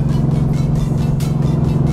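A loud, steady engine drone from an accelerating 1100-horsepower Mercedes-AMG GT R hums close by, its deep tone holding throughout the short stretch.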